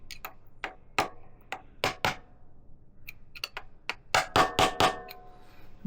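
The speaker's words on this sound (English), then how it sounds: "we can use the actual drift to hit them down all the way" Drift being hammered against crankshaft oil seal tabs on a Benelli motorcycle, a run of sharp metallic taps, sparse at first and then a quick cluster of harder blows near the end, close up with no talk.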